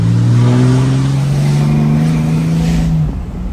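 A fourth-generation Cummins diesel truck with a new tune holds a loud, close, steady rev for a two-step launch, the engine note rising slowly before cutting off near the end.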